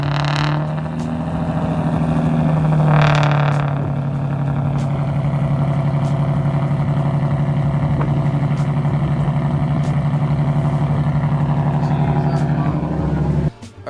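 Car engine fitted with a Megan Racing mid-pipe exhaust cranks, fires up and settles into a loud, deep, steady idle with a couple of revs near the start, with people talking over it.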